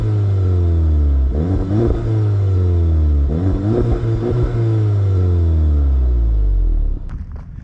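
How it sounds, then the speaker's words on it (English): A 2018 VW GTI SE exhaust in sport mode revs loudly several times, rising and falling with a deep rumbling burble, then drops off abruptly near the end. "let you guys hear what it sounds like in sport mode"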